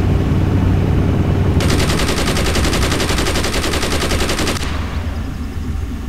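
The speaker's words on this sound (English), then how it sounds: "Oh, it's a defense turret." Rapid automatic turret gunfire in a video game, a sustained burst of closely spaced shots lasting about three seconds over a constant rumbling game background, then stopping abruptly.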